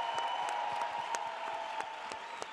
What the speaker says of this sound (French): Je vous demande encore d'applaudir bien fort Mathilde Larère qui était avec nous ce soir